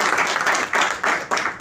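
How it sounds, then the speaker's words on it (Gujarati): An audience at a business training seminar claps loudly in several rhythmic bursts of applause, close and brief. "જોરદાર તાળી આપે"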